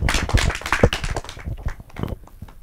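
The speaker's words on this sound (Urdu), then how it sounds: "ارینا فاطمہ کے لیے تالیاں ہو گئے بھائی" A brief round of clapping for a child guest on a Pakistani children's radio show broadcast on TV, several close hand claps that quickly thin out, with faint voices mixed in.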